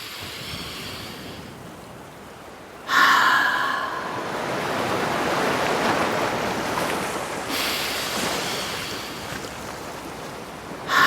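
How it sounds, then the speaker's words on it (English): Ocean breath in a kids' yoga session, long, audible whooshing exhales like surf, each rising abruptly and holding for several seconds, close and fairly loud with no talk. "Make a sound like the ocean."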